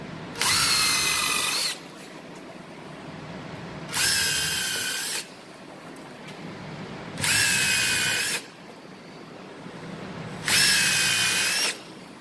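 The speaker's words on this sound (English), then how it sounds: "Remember when you drill this, to drill at the angle of the" A power drill bores a 3/8 hole for a nutsert into a Dodge Charger SRT spoiler, four loud whining bursts of about one to two seconds each, close by, separated by quiet pauses.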